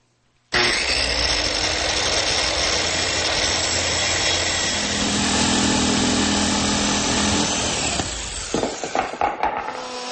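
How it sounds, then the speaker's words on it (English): A router-table build: a power tool cuts the through hole for a router plate, running loud and steady for about eight seconds, then slowing into a few short bursts and sputters before stopping. "Now let's cut a hole for the router plate."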